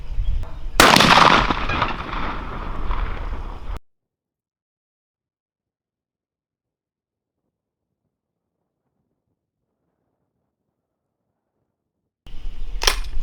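A shotgun firing a Hornady Turkey Magnum shell outdoors gives one loud, sharp close blast. The boom is followed by a few seconds of wind-buffeted rumble, and then everything goes silent.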